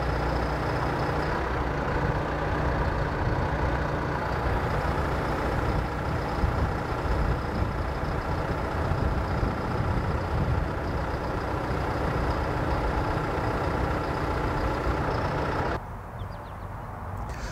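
Tractor with a 50-inch rotary swivel cutting head on a boom, its engine running at a steady, loud heavy drone throughout, dropping slightly in the last couple of seconds.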